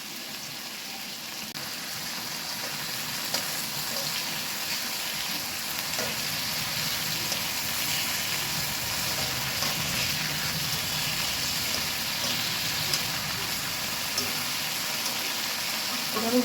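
Tomatoes frying in a pan without salt, giving a steady, continuous sizzle that stays even and fairly soft throughout, with no talk over it.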